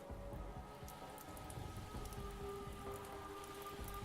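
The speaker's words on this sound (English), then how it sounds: "I mean, for immersion's sake, thunder and rain sounds." Steady rain sound played in the background of a stream, a faint, even patter of drops on a surface with no voices over it.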